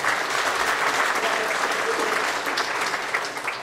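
A church congregation claps during a Sunday morning worship service, a dense and sustained wash of applause that fills the room at steady loudness, with faint murmuring voices mixed into the clapping.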